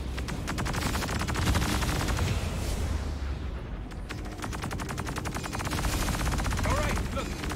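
Ship weapons firing in the space game Star Citizen, a rapid machine-gun-like rattle of shots that runs almost nonstop at high volume, pausing briefly midway before resuming.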